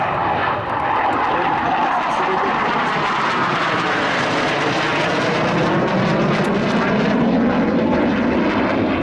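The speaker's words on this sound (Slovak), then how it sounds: "Náznakové pristátie, alebo naozaj dosadáme na zem?" A fixed-wing airplane performs a touch-and-go landing at an air show, its engine a loud, continuous roar that swells and holds throughout, close and dominant with no other sounds rising above it.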